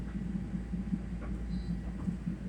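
A Long Island Rail Road train runs toward Huntington, giving a steady low rumble and rhythmic wheel clatter heard from inside the car, with no talking.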